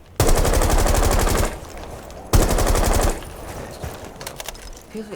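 Two long bursts of rapid automatic gunfire from a weapon in the game Rainbow Six Siege Shadow Legacy, loud and close, each with a fading tail of scattered clicks and reverb.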